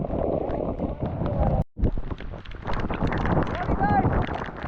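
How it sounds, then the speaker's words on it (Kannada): Strong wind on Kabbe Hills near Madikeri roars and buffets the microphone in heavy gusts, with a sudden brief drop, while a voice talks underneath. "ಗಾಳಿಯ ವೇಗ ನೋಡಿ ಗಾಯ್ಸ್"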